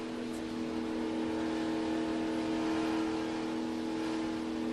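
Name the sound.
sports car engine revving near the rev limiter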